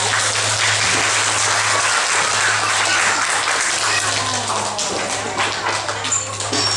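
Audience applause at an animal stage show, a sustained dense crowd clapping with a steady low hum underneath, holding throughout and easing slightly near the end.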